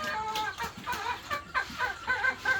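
Barnyard chickens clucking near a pig pen, several birds with choppy overlapping clucks and short rising calls, close and moderately loud, no speech.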